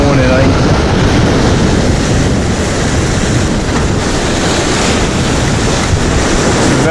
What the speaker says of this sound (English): Very small swell.